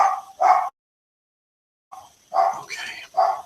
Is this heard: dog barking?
yes